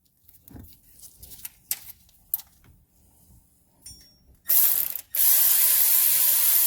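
A hand ratchet tightens the tensioner pulley studs on a 2004 Toyota Tundra engine, with scattered clicks and handling noises, then two bursts of rapid, loud, close ratcheting.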